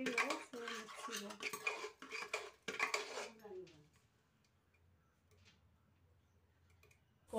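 A metal spoon scrapes and clinks briskly against a pot as horse gram lentils are stirred, close and clattering for about three seconds before falling to near silence.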